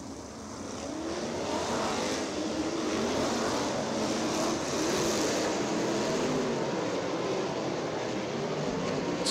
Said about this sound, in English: letting drivers go ahead and buzz the racetrack